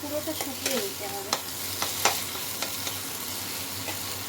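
Garlic frying in a pan, stirred with a utensil: a light steady sizzle under several sharp scrapes and clinks of the spoon against the pan, close and moderately loud.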